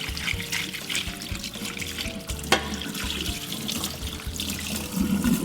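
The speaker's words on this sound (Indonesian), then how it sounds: "kita akan bersihkan hitamnya ini sampai hitamnya benar-benar hilang di air mengalir" Tap water runs steadily into a sink while a cobia fish is rinsed clean of dark blood, a close, continuous splashing flow with small knocks and shifts in the stream.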